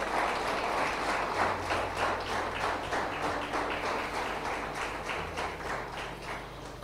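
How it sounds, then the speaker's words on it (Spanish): A church congregation applauds during a Sunday service, many hands clapping together in a dense, sustained burst that fades slightly toward the end, with no speech. "Dale un aplauso al Rey de Gloria."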